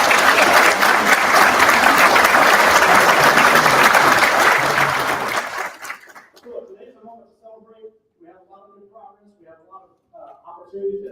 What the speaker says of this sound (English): would you all give my team a round of applause?